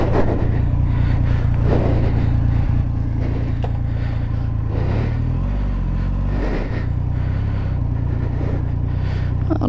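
A Triumph Rocket 3 GT motorcycle engine runs loud and close, a heavy steady rumble with a few revs swelling and falling in the middle.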